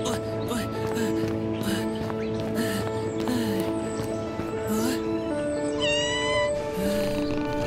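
A cat in an animated roleplay scene meows repeatedly over steady background music, its cries rising and falling with some drawn-out, whiny calls near the end.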